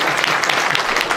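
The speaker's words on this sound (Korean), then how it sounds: "고맙다는 뜻으로 박수 한번 주시고요" An audience of elderly residents claps steadily in a dense, continuous burst of applause at a 2018 citizens' dialogue event in Seo-gu, with no talk over it.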